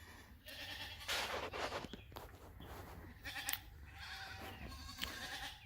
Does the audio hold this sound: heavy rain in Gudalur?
no